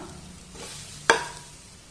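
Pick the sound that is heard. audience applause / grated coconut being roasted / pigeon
grated coconut being roasted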